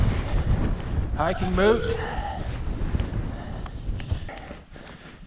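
Strong gusty mountain wind buffeting the microphone in a low, continuous roar, with a person talking over it.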